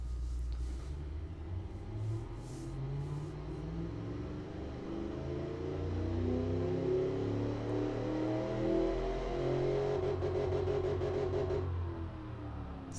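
A car engine from the Automation game, fitted with twin reverse-flow mufflers, revs up steadily and strongly, climbing in pitch to a high strained whine and then easing off, loud and continuous with no talking.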